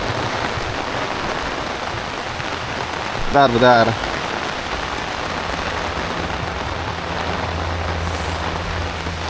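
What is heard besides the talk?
heavy rain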